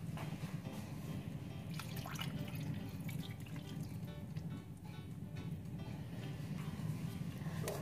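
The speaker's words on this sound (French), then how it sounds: "Donc je vais rajouter de l'eau de cuisson." Cooking water poured into a cast-iron pot around a veal roast, a steady soft splashing stream lasting several seconds with faint drips, heard alone at moderate volume.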